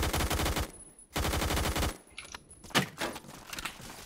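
Bursts of rapid automatic gunfire in Roblox Murder Mystery 2, two loud sustained volleys separated by a brief gap, followed by scattered fainter shots and clatter.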